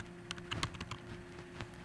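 Quiet, irregular keystrokes clatter on a computer keyboard while a name is entered into a Google Hangouts search, a short uneven burst of clicks close to the microphone.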